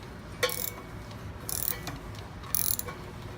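An emergency descent brake mechanism being turned with a socket to move its cable in tiny steps, producing a few close ratcheting clicks and metallic bursts over a steady background hum.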